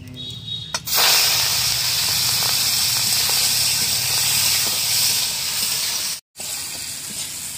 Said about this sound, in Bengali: নুন হলুদ মাখিয়ে রাখা চিংড়ি মাছটা আমি এই ফোড়নের উপরেই ঢেলে দেবো।